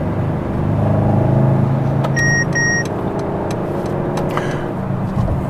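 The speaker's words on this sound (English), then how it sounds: "That noise you just heard was the blind spot monitoring" Two short, bright electronic warning beeps from a Mercedes-AMG GLE63 S blind spot monitoring system, sounding in close succession inside the cabin over a steady low engine and road hum, with a few clicks afterward.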